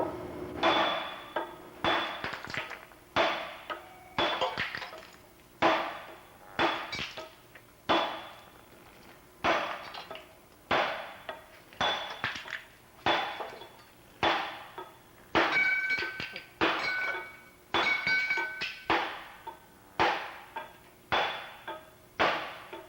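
A 2.5 pound hammer strikes stone again and again to cut it, giving sharp, ringing clangs in an irregular but steady rhythm, each blow decaying quickly, close and fairly clear.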